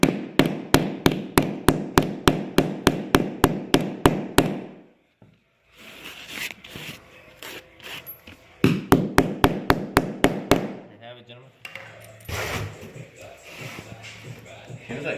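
A hammer strikes an air suspension part from an Airlift 3P kit on an SRT-4, a loud fast string of evenly spaced taps followed by quieter shuffling and two more bursts of tapping, with people talking nearby.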